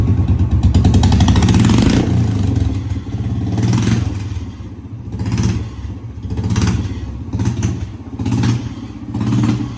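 A Royal Enfield Bullet motorcycle with its exhaust removed, the engine revving loudly at first, then pulsing through several throttle blips that rise and fall with a rough, clattering beat.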